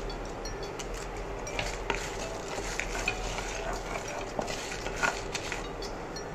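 Urad dal and dried red chilies fry in a pan: a soft, steady sizzle continues throughout, with scraping stirs and light clinks of a utensil against the pan, fairly quiet and without talking.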